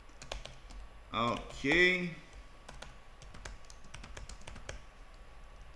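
Computer keyboard typing heard up close as a string of quick, light clicks, briefly interrupted by a short spoken word partway through.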